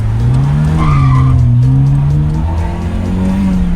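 BMW fresh out of break-in revving hard at a Swiss car meet, a loud, close engine drone rising and wavering in pitch over a few seconds, with a rough, strained edge.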